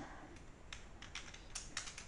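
Keys tapped on a computer keyboard while writing web page code, a soft run of quiet, irregular clicks over faint steady background hiss.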